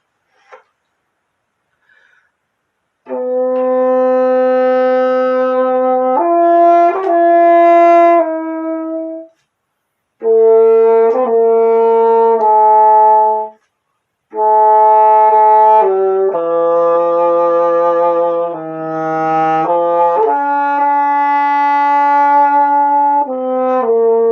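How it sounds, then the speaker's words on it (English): A bassoon plays a smooth, singing melody in its tenor register, with phrases separated by short pauses, close and clear, no talking. "play very melodic and singing lines on the bassoon"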